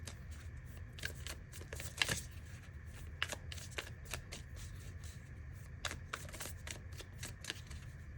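Tarot cards being shuffled close by, a quiet run of crisp riffling flicks and taps repeating irregularly over a low room hum.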